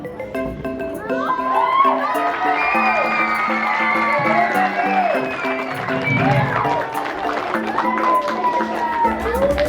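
Schoolchildren at a Black History Month cultural assembly cheer and shout together, a loud, continuous roar of young voices filling the hall with only brief dips.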